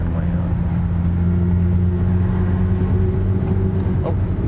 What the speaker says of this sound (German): ich beschleunige ihn noch einmal durch. Denn dann könnt ihr nochmal die Sound Experience hören.